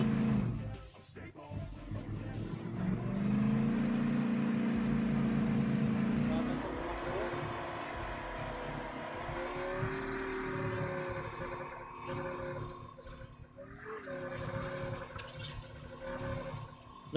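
A vehicle engine roars in a multiplayer battle royale video game, rising and shifting in pitch as it drives, steady and fairly loud throughout, with people talking over it.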